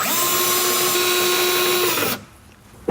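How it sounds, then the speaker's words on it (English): A power drill driving a screw into a corner cabinet stop whirs at a steady, high whine for about two seconds, then stops, leaving quiet room noise. "Drill it into position."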